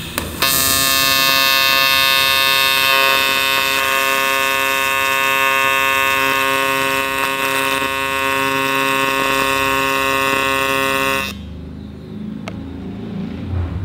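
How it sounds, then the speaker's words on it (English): A steady, loud electrical hum and buzz from a TIG welder arc controlled with a foot pedal, running continuously for about eleven seconds before cutting off to quiet shop background. "So I'll tack it up on two sides and then we'll try to get in a nice comfortable position and weld some out."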